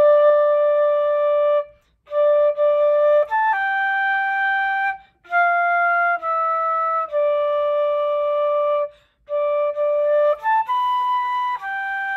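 A flute section plays the Avengers melody in clear, sustained notes, phrases separated by short breath pauses, with a small run of quicker notes near the end.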